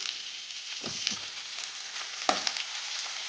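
Chopped spring onion and vegetables fry in hot oil for veg Manchurian, giving a steady close sizzle with a few sharper spatters and pops of stirring throughout, no voices.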